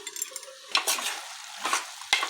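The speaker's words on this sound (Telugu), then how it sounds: "ఇప్పుడు మనం కలుపుకోవాలి" A tomato masala curry for bitter gourd is stirred in a pan, with a few spoon scrapes and clinks over a soft sizzle and no talking.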